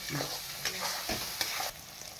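Spices with chilli powder and tomato being sautéed in a pan for a boal fish curry, giving a steady close sizzle broken by a few sharp scraping stirs of a spatula, with no talk.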